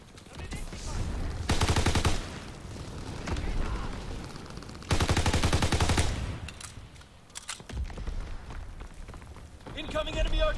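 An enemy aircraft's strafing run in Call of Duty WW2 sprays rapid gunfire in two loud sustained bursts, separated by battlefield clatter, with a short third burst near the end.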